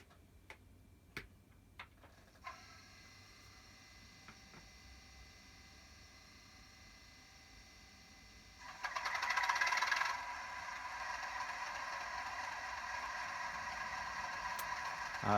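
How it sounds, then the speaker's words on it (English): A model Class 37 diesel locomotive's sound decoder plays its startup sequence through an upgraded speaker. A few faint clicks come first, then a steady idling hum with a louder cranking surge partway through, settling into a continuous engine drone. "So the first sound obviously is startup."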